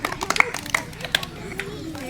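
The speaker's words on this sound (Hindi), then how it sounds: "ताली बजाओ सब लोग" Village children at a free coaching centre in Mangalsi, Ayodhya, clap in a short, uneven burst: a handful of sharp claps close together, then a few more, with voices talking over them.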